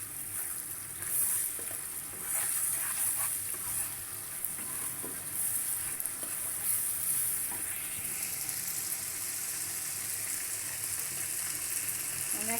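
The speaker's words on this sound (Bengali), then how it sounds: "আমি সুন্দর করে পেঁয়াজের সাথে আদা রসুনটা ভেজে নিব" Ginger and garlic fry with onion in a pan for a Bangladeshi deshi chicken curry, a steady close sizzle with occasional stirring scrapes throughout.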